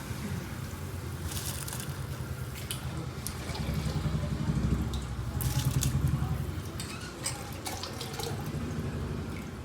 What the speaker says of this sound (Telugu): బియ్యం వేసేసుకుంటున్నా.